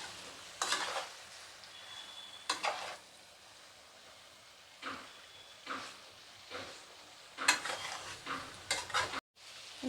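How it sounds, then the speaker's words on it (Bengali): Jackfruit and potato curry stirred in a pan, with intermittent scraping bursts of a spoon against the pan over a soft sizzle, no talking. "এবার ভালো করে নাড়াচাড়া করে নিচ্ছি।"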